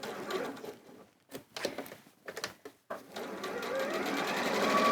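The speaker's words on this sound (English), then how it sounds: "we're simply just sewing along the raw edge and turning when we get to the corner" A sewing machine stitches along a raw fabric edge, its motor whirring in bursts with short pauses at turns, then running steadily and louder toward the end, close by with no talking.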